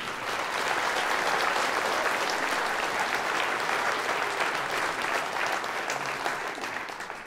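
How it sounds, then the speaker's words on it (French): Dense, sustained applause from an audience at a final campaign rally in France, steady and loud for the whole stretch before thinning slightly at the end. "Je vous demande d'applaudir très fort Olivier Dufour"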